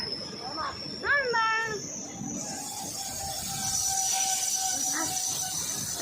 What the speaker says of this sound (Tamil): அழகாக ட்ரெயின் போகுது